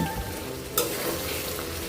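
Chicken pieces roasting and being stirred in a pan for a birthday biryani, with a steady close sizzle and a brief clatter of stirring partway through, no talking.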